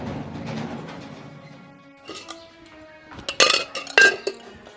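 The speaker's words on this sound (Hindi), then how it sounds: "कुछ ना बेबे बर्तन धोऊं सू" Dishes, pots and utensils being washed, with a low murmur of handling followed by several sharp metallic clinks and clatters, close by.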